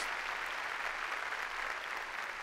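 A church congregation claps strongly in praise, a dense, steady wash of many hands sustained evenly for the whole stretch with no voices standing out.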